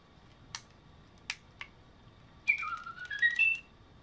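A bird-shaped toy switched on gives a few sharp clicks, then a short burst of bright, warbling chirps and whistles, faint and alone.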